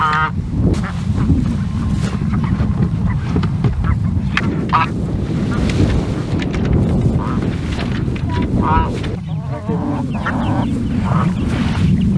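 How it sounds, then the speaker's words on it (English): A new batch of hens out on grass on a homestead farm, with busy overlapping clucks and squawks from several birds close by, steady wind noise buffeting the microphone throughout. "This is the new batch of hens. They're out on grass."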